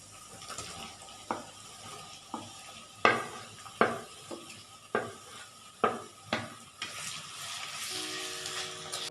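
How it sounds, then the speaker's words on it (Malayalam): Crushed shallots and chopped onion frying in a pan for a Kerala mutton curry, with a soft sizzle under a series of sharp spatula knocks and scrapes against the pan at an uneven rhythm, and no talk. "ഇനി നമുക്കതിലേക്ക് ഒരു 100 ഗ്രാം ചെറിയ ഉള്ളി ചതച്ചതും 1 മീഡിയം സവാള ചെറുതായി അരിഞ്ഞതും ഇട്ട്"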